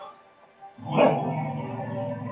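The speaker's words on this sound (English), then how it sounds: "My husband's gonna come kick my puppies out of the room so that we don't have to listen to them fighting" Puppies barking and scuffling in a room, a sudden burst of yapping that rises and then stays steady and close for the rest of the moment, with no talk over it.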